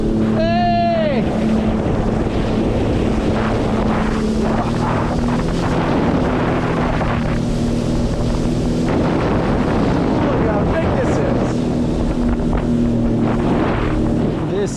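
A 2026 Sea-Doo Explorer Pro personal watercraft runs out on the cold winter Atlantic Ocean, its engine droning steadily with strong wind buffeting the microphone and water rushing past throughout, and a brief shout near the start.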